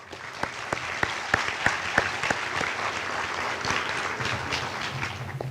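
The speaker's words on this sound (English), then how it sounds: "please give them a round of applause." Audience at a high school early college graduation ceremony bursts into sustained applause, many hands clapping together in a full, steady wash that continues throughout.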